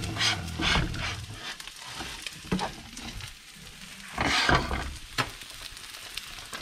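Eggs and fries frying in a pan for a vegan breakfast crackle and sizzle steadily, with scraping stirs and clattering utensil hits rising in bursts over the continuous hiss.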